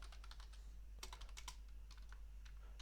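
Soft, rapid clicks of typing on a computer keyboard while entering a MySQL update query, heard close and quiet over a steady low hum, in bursts with short pauses and no speech.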